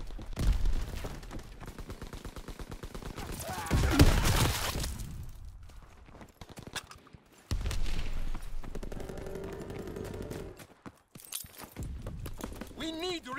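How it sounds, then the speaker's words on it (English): Rifle and machine-gun fire rattle through a Call of Duty: WWII battle in irregular bursts and scattered shots, some near and loud, others distant, with soldiers shouting over the shooting. "Keep firing!"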